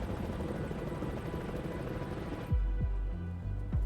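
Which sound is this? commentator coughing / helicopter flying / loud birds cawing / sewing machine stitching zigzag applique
helicopter flying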